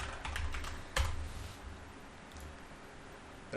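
Keys clattering on a computer keyboard as a password is entered, a quick burst of close taps with one sharper keystroke, then quieter scattered clicks fading toward near silence.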